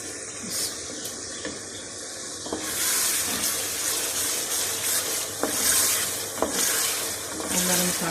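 Masala with garam masala and a cinnamon piece being stirred in a hot pan for mutton koftas, giving a loud, continuous sizzle with rhythmic scraping and mixing sounds throughout.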